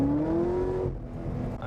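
A 2010 Corvette ZR1 engine pulling hard in first gear, a loud, rising close-up whine and roar that holds briefly and then drops as the revs fall away, with no talk.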